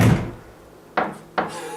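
Shed door knocking shut twice in quick succession, two sharp close thuds about half a second apart after a brief muffled rustle at the start.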